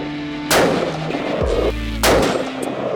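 A rifle firing factory ammunition lets off two sharp, loud shots about one and a half seconds apart, each followed by a brief ringing decay outdoors.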